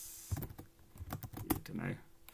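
Keystrokes on a computer keyboard while entering a live-coding pattern, a quick irregular run of soft clicks and taps, close and fairly quiet with a low background hum.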